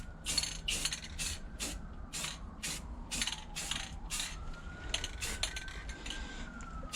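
Spray paint hissing onto an MTB coil spring in red, a series of short close bursts repeated in quick succession with brief gaps between.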